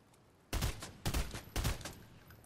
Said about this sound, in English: Be careful, Ronnie, getting shot from northeast.